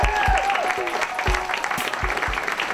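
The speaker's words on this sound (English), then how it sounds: "please give a warm round of applause" A conference audience applauds for Benjamin Southworth, co-founder of Three Beards, in brief clapping under a voice and music-like tones.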